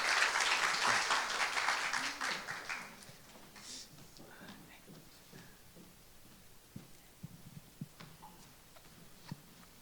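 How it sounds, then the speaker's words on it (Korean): Applause from an audience welcoming a parent speaker at a school end-of-term gathering, a dense burst of clapping for about three seconds that fades out, followed by scattered faint taps and room noise. "우리 박수로 우리 환영하겠습니다."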